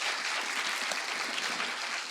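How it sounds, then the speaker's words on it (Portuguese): An audience applauds Isabela Henrique at a panel event, a steady, dense wash of clapping that holds evenly for about two seconds at moderate level with no voices over it. "Palmas para Isabela Henrique, gente."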